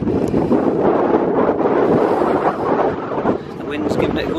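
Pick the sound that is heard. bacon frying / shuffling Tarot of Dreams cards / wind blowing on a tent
wind blowing on a tent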